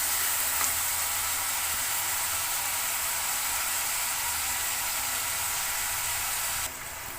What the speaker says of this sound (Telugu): టమోటా వేయాలి. నూనెలో కొంచెం సేపు మగ్గించుకుంటే చాలా సరిపోదు